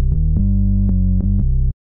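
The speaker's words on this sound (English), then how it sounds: "So I'm going to activate the sub, put it one octave down." Layered Serum synth bass for melodic house with the sub oscillator added an octave down, playing a deep phrase of several low sustained notes with short bright onsets, loud and alone, ending with a sharp stop.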